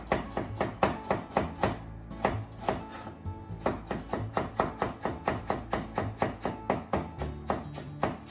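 A knife cuts skin-on ginger into thin slices on a cutting board, making crisp, rapid, evenly spaced knocks in close succession with no voices.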